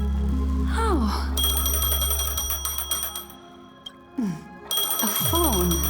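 A phone rings in the video game Honkai Star Rail, repeated electronic ringing tones with sustained tonal layers and brief pauses, fairly loud over game music with a voice speaking briefly.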